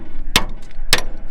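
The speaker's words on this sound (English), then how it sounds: "Pipe wrench, that works as a hammer." Two hard, sharp metallic whacks from a pipe wrench swung as a hammer to drive a pin out of a farm feed cart, spaced about half a second apart, close and loud over a low background rumble.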